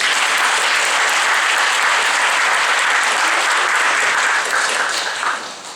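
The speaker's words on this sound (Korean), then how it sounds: "우리를 이 자리에 인도하신 우리 하나님께 영광의 박수 보내주십시오" A church congregation at a New York Korean church bursts into sustained, dense applause that fills the room evenly, then tapers off at the end without voices over it.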